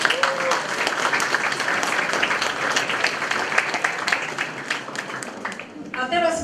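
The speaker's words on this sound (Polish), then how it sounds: "Brawa dla wszystkich." Sustained audience applause at a school prom gathering, a dense wash of many hands clapping with a few voices mixed in, fading slightly before a voice speaks at the very end.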